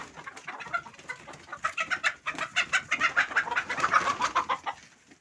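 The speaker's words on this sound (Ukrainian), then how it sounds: "Нащо ти курей мучиш?" Several chickens cluck and chatter continuously in quick, rhythmic bursts, fairly close and moderately loud, with no talking.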